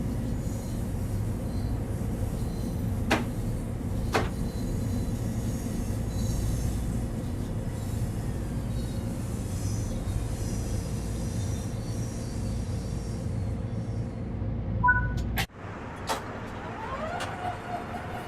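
A Long Island Rail Road M7 electric train in Train Sim World 3 rumbles steadily with a low drone and occasional clicks, then cuts to a quieter interior tone near the end.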